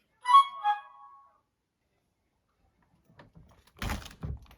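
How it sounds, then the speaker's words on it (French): A door opens with a home alarm armed: a short electronic chime first, then after a pause a close, brief clunk and rattle of the door moving. "Nous ouvrons la porte"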